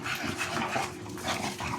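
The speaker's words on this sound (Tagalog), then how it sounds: "Si Lizzie, hingal na, hingal na." A pregnant dog panting rapidly and steadily close by, a continuous breathy rhythm with no talking.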